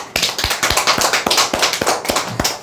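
Audience applause at a Korean sales lecture marking its 200th session, a dense run of sharp hand claps from a room full of people, steady and close for the whole stretch with no talk over it.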